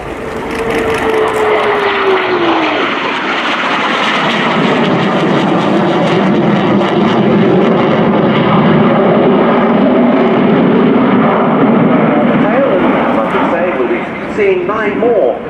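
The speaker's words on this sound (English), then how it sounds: "Seeing 9 more Typhoons in a Diamond 9 formation as part of the RAF 100 centrepiece to today's display" Eurofighter Typhoon FGR4 jet roaring through a flying display at the Royal International Air Tour, a loud sustained engine rush that swells and drifts steadily across the whole stretch, with an announcer talking over the top.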